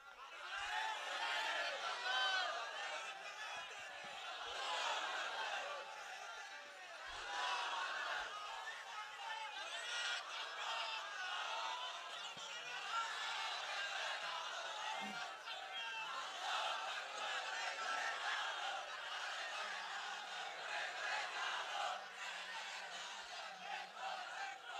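A crowd of many voices rises together in a loud, sustained chant throughout, like an audience shouting a slogan in unison at a religious lecture, with chatter and scattered laughter mixed in.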